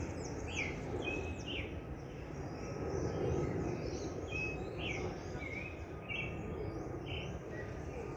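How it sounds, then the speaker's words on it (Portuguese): Birds sing in a forest with repeated high chirps and short trilled calls over a steady bed of insect buzz and low rumble, heard at moderate distance and fairly faint. "Eu acho que tá dando para você escutar o som. Canto dos pássaros."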